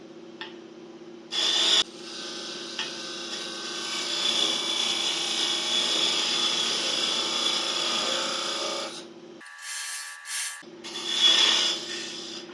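A wooden piece spins on a wood lathe while a tenon is turned, producing a steady rasping, scraping cut over the motor's hum, with brief pauses and bursts as the tool lifts and re-engages.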